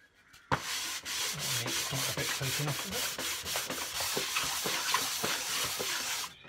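A wooden mould form has its edge chamfered by hand, about a dozen rhythmic scraping and rasping strokes, close and fairly quiet, with no talk.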